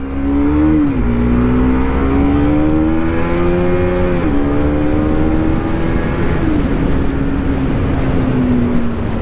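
A Bajaj Pulsar NS 200 BS3 motorcycle engine revving up close: a loud, continuous drone whose pitch drops and climbs in several steps.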